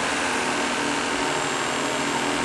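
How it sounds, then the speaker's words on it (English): A gas analyzer's pump runs continuously, drawing in air with a steady, even mechanical hum and hiss, close and unchanging, with no voices. "Just turn the pump on each, and run that for 10 minutes of just pumping air."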